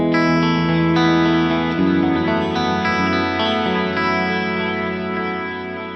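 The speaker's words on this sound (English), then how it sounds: "if we, though, lower this tempo way down, you'll hear it gets a lot more washed out" An electric guitar through a Fractal unit with Plex delay, multi-delay and reverb at a slow tempo, sustained notes and chords blurring into a thick, washed-out wash of repeats and echoes, loud and continuous with no talking.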